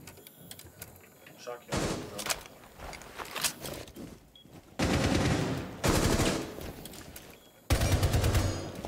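Rainbow Six Siege gunfire crackles in bursts, with short automatic volleys and then several longer, louder sustained streams of shots, and a voice talks over parts of it.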